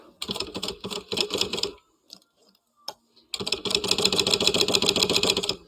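A sewing machine set to stitch length 4 runs in two fast, rhythmic bursts of needle clatter separated by a short pause with faint handling noises, close and clear.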